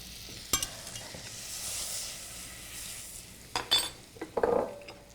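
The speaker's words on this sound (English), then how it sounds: "Add some butter to a saute pan. Add a little bit of flour. And we're going to make a roux." Butter and flour cooking into a roux in a saute pan, giving a steady soft sizzle with stirring scrapes and a few clinks of utensil against the pan near the end, close and moderately quiet.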